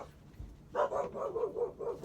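Several dogs bark in a quick string of five or six yaps and woofs, fairly close and moderately loud, the barking steady from just under a second in to the end, with no voices.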